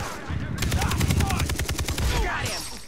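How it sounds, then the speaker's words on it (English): Gunfire in the Far Cry 3 video game: a rapid burst of automatic shots rattling for about two seconds amid dense, noisy action, with some voice chatter mixed in. "I do like the sound that these guns make."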